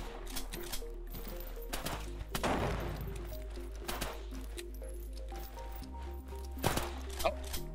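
Gunshots aimed at AI enemies in an Unreal Engine low-poly shooter game: a few sharp, irregular bursts of fire ring out over steady background game music.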